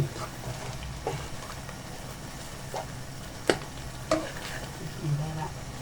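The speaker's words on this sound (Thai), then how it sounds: "ขั้นตอนนี้ท่านผู้ชมทางบ้านก็ ผัดให้สุกเลยครับหมู" Pork stir-fried in a hot wok for rat na noodles, with a steady sizzle under several sharp scraping clanks of the spatula against the metal, close and fairly loud, no speech.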